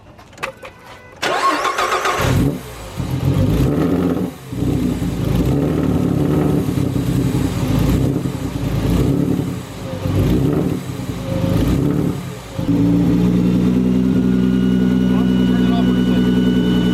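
A 3.7 V6 Mustang with a GT500 kit starts up and revs hard in several loud, close bursts, each rising and falling before the engine settles into a sustained rumble near the end.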